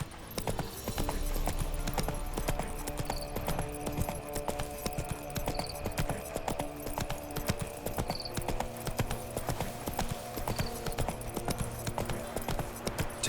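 Roach the horse trotting in The Witcher 3, hooves clip-clopping in a quick steady rhythm close by, mixed with game music and occasional soft whinnies.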